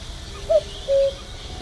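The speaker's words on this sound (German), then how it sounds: "Ein Kuckuck." A cuckoo calls in the point-and-click game The Night of the Rabbit, two soft hooting notes, a short one then a longer held one, over a faint ambient backdrop.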